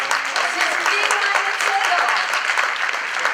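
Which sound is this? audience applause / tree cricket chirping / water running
audience applause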